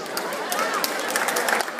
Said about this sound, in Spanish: un aplauso para este equipo